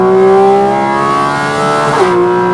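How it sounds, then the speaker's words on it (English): Porsche 718 Cayman GT4 RS Weissach revving high toward its 9,000 rpm limiter at night, a loud, piercing engine wail that holds steady, bounces off the limiter and dips briefly. "As we bounce off the rev limiter,"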